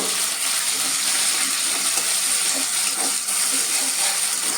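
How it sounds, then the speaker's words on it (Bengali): Ground spice paste hitting hot oil in a pan while an ilish fish curry is cooked, giving a steady, dense sizzle that stays even and fairly loud throughout, with no talk. "এবার এই বেটে রাখা মশলাটা তেলে দিয়ে দেব।"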